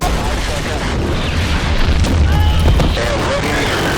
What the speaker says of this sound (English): We have a tank over here! Stand by for bomb. Drop.